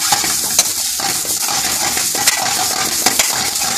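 Special fried rice with chopped coriander and a touch of ghee being stir-fried in a restaurant pan: a steady, close sizzle with scattered sharp scrapes and clinks of the utensil against the pan, no voices.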